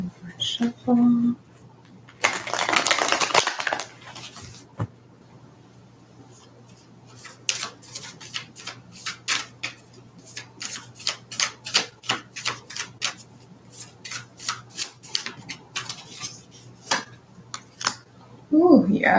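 Moon Oracle cards are shuffled with quick riffling flicks and soft slides, some bursts longer and some rapid in sequence, with a voice briefly speaking at the start and end.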